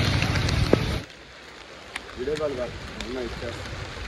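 Rain falls on pilgrims walking the circumambulation path around Arunachala hill. A dense, loud hiss fills the first second, then the rain continues more softly under voices.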